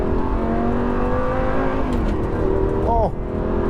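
A Lamborghini 550/2 Valentino Balboni engine roars steadily and loudly as it accelerates, pitch climbing with a brief dip and rise as it shifts, heard close and unbroken.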